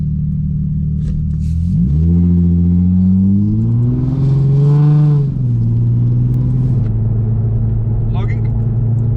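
A remapped Nissan 350Z with test pipes revs at full throttle from about 2000 to 4000 rpm, its loud, close, droning exhaust note climbing in pitch, then dropping back to a steady lower hum.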